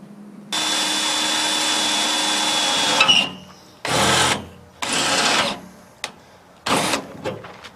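Power drill pre-drilling holes during understorage fabrication on a school bus conversion: one long steady whir of about two and a half seconds, then three shorter bursts with pauses, close and loud.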